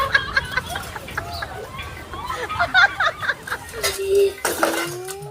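Metal pots and utensils clatter and clink in a household setting, with scattered knocks and scrapes through a busy stretch while voices chatter in the background.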